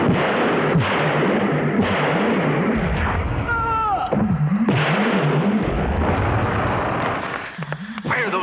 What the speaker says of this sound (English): Why are those fools shooting at the creature?